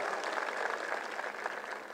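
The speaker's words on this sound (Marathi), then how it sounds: "संजय गांधी निराधारच्या कार्यकर्त्यांच्यासाठी टाळ्या वाजवून त्याचं अभिनंदन करा" A crowd at a Marathi campaign rally in Zodge applauds Sanjay Gandhi Niradhar scheme workers with dense, steady clapping that holds at an even, moderately distant level for two seconds.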